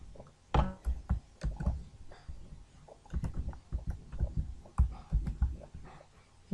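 Close, quiet typing on a computer keyboard while writing Java code, with irregular bursts of key clicks and short pauses between words, no talking.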